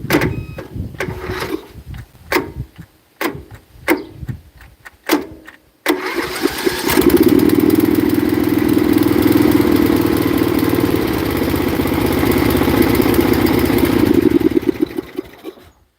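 Bolens ST120 lawn tractor's small engine, run off a jumper pack with no battery, gives a few sharp cranking bursts, then catches and runs steadily loud for about eight seconds before dying down at the end.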